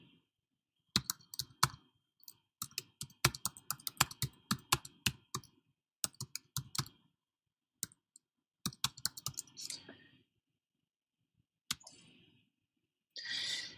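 Typing on a computer keyboard, with bursts of sharp, close key clicks in quick irregular runs broken by pauses, ending in a few scattered taps and a soft shuffle.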